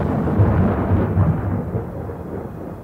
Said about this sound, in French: un éclair déchira le ciel